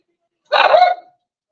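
A dog gives a single short bark burst, close and fairly loud, with nothing around it.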